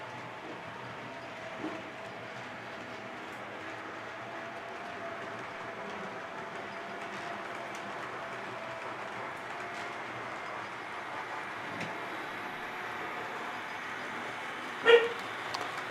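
A model locomotive pulling a long train of rolling stock around a layout gives a faint, continuous low rattle and rumble, with a brief louder clack near the end and no talk.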